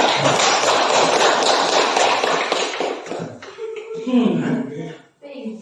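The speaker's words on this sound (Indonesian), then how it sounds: "kita beri aplaus dulu" Applause from a group of students in a classroom, dense and steady for about three seconds, then fading into scattered claps and voices.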